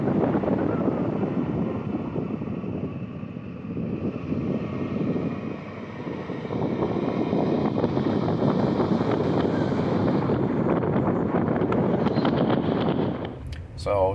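Steady low road and engine rumble fills the cabin of a 2005 Buick Lacrosse driven slowly over a few city blocks during brake bedding, with wind-like noise throughout and a brief shift near the end.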